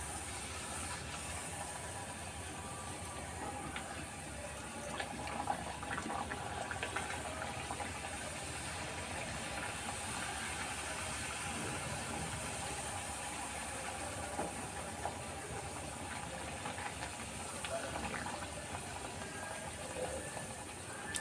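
Crispy sweet puri fry in hot oil over a low gas flame, producing a constant, even bubbling hiss that runs unbroken from start to finish with no speech.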